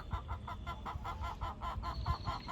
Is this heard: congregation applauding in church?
no